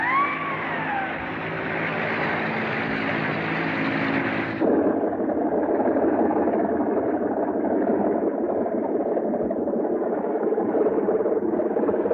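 Boat engines hum steadily as a boat approaches, a medium idling drone that shifts to a rougher, lower tone partway through and continues alone without voices.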